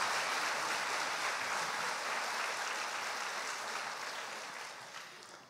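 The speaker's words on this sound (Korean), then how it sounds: "우리 감사하면 박수 한번 해주세요" Sustained applause from a church congregation during a Sunday worship service, a dense even wash of many hands clapping that fills the room and slowly fades toward the end.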